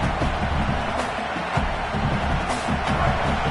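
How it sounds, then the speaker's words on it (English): A stadium crowd roars steadily at an NCAA college football game in a video game, a dense sustained wash of noise with no clear breaks. "Listen to this crowd just shaking the girders of this place trying to help their defense"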